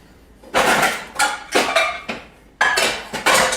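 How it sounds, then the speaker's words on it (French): Metal pots and pans clatter and clank in a kitchen as a saucepan is picked up and set down, several sharp bright knocks in irregular bursts, close and fairly loud, with no talking. "On prend une casserole."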